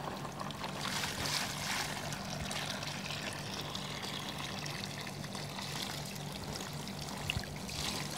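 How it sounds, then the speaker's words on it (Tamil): Water pours steadily onto coco peat in a terrace garden with a soft, hissing trickle, continuous and close, with a faint low hum underneath. "இதில் நம்ம தண்ணி ஊற்ற போகிறோம்."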